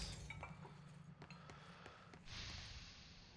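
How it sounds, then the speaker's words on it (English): Glass shattering in the video game Control, a sharp break near the start with a few tinkly fragments and faint later clinks over a low game ambience. "Oh, if I can break the glass."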